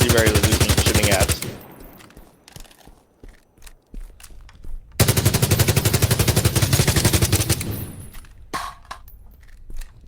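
A video-game machine gun fires tracer rounds in two loud, rapid sustained bursts of several seconds each, with quieter scattered sounds and pauses between them.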